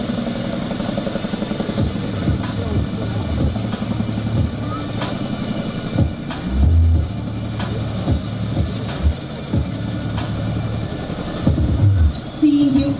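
An Indian Air Force Chinook CH-47F twin-rotor heavy-lift helicopter at a public display: a continuous rotor and engine drone with a rhythmic beat fills the scene, and a voice speaks over it intermittently.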